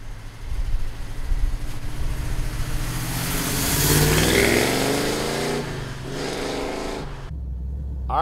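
A 1967 Pontiac GTO engine revs and roars steadily, rising to a louder peak midway before dropping off abruptly near the end.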